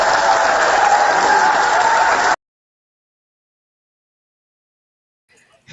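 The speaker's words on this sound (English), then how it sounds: "he enticed the entire room and everybody clapped" Applause from a room full of people at a live town hall gathering, loud and steady for about two seconds, then cut off abruptly into silence.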